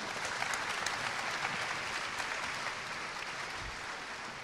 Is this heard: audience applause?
yes